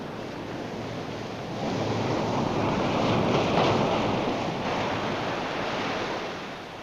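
Ocean waves wash onto a dark beach at night in a steady, broad roar of surf that swells gently in the middle and stays close and full throughout, with no voices.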